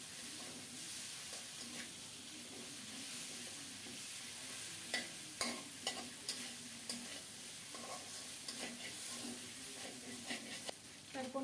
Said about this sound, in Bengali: খুব সুন্দর মতো রুই মাছের মাথাটা ভেজে নিয়েছি।